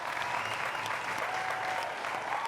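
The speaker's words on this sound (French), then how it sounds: "On va l'applaudir très fort, s'il vous plaît." A television studio audience gives a Chadian artist continuous, even applause, a steady wash of clapping heard alone for a few seconds.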